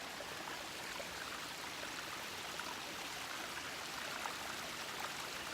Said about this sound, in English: Look at this fantastic little waterfall behind me.